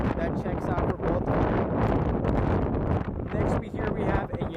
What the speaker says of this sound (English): It's also a very windy day here at Portland